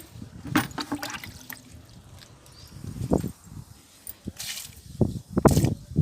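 Eggshell liquid fertilizer poured onto fruit plants in bursts of splashing and trickling, several separate pours with short quiet gaps, close by.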